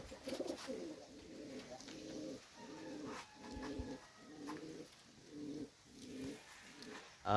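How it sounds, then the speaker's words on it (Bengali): Pakistani pigeons coo in a steady, repeating rhythm of low, throaty phrases, close by and continuous, with faint higher chatter in the background. "দেখেন কবুতরগুলো যে এখানে রাখা আছে"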